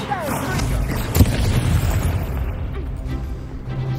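An Incendio fire spell is cast during a Hogwarts Legacy wand duel, giving a sharp burst and boom near the middle that rolls into a steady, rumbling roar of flame.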